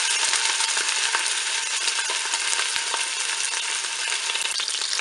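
A turkey roast browns in hot oil inside a Cookeo multicooker, giving a steady, bright sizzle and crackle with occasional sharp pops and small knocks, close and continuous with no talking.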